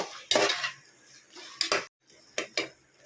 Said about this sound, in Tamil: இப்போ பாருங்கள் காய் நல்லா வதங்கிட்டு இருக்கு